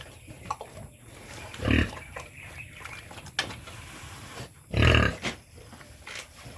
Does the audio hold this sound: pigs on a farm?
yes